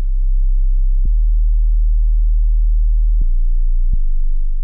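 A sub bass chord progression programmed in Ableton, heard as a steady, loud low sine drone that holds under the whole passage and shifts pitch a few times with faint clicks at each note change.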